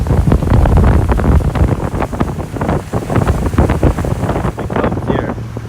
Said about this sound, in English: I know it's windy. Trying to block the wind.